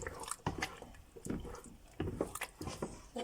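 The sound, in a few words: meat stock being spooned into egusi soup pot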